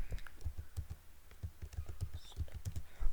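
Python code being typed on a computer keyboard, quick irregular clicks of keys close by and fairly soft, with no voice over them.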